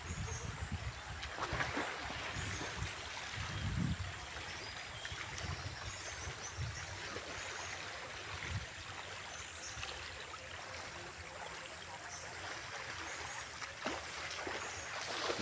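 River water flows with a steady, soft rushing wash that carries on throughout, occasional faint thumps and movement showing through, and no clear talking.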